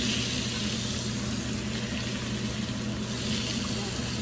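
Butter melts and fries in leftover ham juices in a pan, giving a soft, continuous sizzle and watery bubbling that stays constant throughout.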